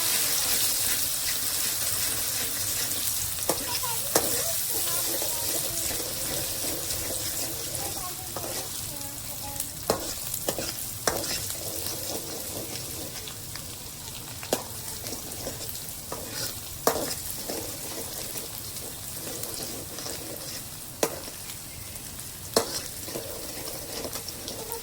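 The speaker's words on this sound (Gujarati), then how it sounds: "ડુંગળીને ચડવા દેવાનું છે." Onions and ginger frying in hot oil, a continuous close sizzle with intermittent stirring clacks and scrapes throughout, faint voices now and then underneath.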